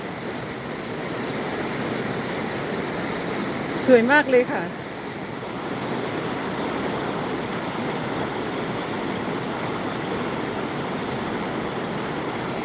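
A waterfall rushes as a steady, even wash of water in the background while someone speaks briefly over it.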